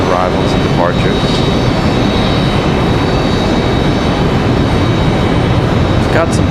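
An Airbus A321 jet departs Raleigh-Durham for Atlanta, its engine roar a loud, steady broadband wash throughout, with brief chirps and a speaking voice faintly at times.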